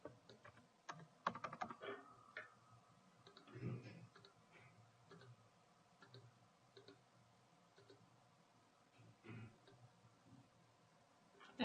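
Quick bursts of typing on a computer keyboard, light clicky keystrokes in uneven runs, fairly quiet, with faint speech and a steady background hum.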